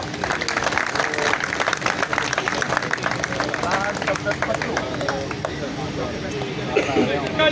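Crowd clapping at a champion celebration party for an honoured senior ustad, brisk applause mixed with chatter and voices over a busy room.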